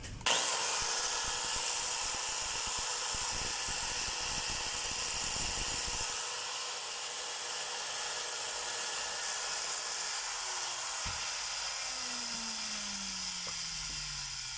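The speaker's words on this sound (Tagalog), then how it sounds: "DWE 8300S ang model po nito. Grinder na D4 mga kabay." A 1050-watt DeWalt DWE8300S 4-inch angle grinder runs at full speed with a steady high whine and a close, loud motor hum. A few clicks and rattles come early on, and the pitch shifts slightly near the end.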